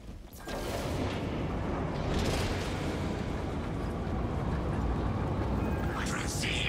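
Weapons fire in the video game Warhammer Space Marine 2 merges into a loud, continuous roaring barrage of blasts after a brief quieter start, with a voice audible over the din.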